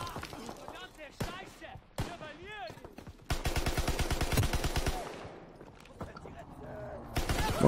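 Rapid bursts of automatic gunfire rattle in quick succession amid Call of Duty WWII game sound effects, with a voice talking intermittently.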